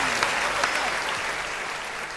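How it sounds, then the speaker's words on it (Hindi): An audience at a Hindi comedy poetry gathering (kavi sammelan) in Thailand bursts into strong, sustained applause, a thick wash of clapping that holds steady throughout without speech. "ताली जोरदार"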